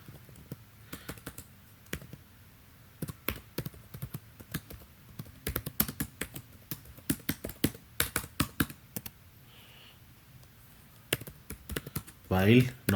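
Fingers type code for a Linux device driver on a computer keyboard in irregular bursts of close, crisp key clicks with short pauses, and a voice is heard briefly.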